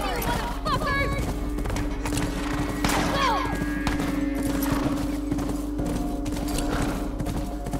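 Horse hooves clopping in the video game The Last of Us Part II, a steady run of thuds beneath constant game noise, music and talking voices.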